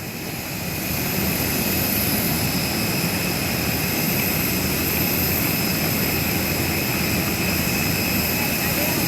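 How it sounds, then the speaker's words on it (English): A Citylink airplane's engine gives a loud, continuous jet roar with steady high tones, heard from close by, likely from inside the cabin, with a voice speaking faintly underneath. "You can see this airplane is a Citylink airplane."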